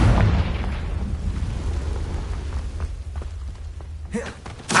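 A booming blast from the Confringo spell in a video game, a loud rumbling burst that fades into a low roar, with a smaller thump near the end.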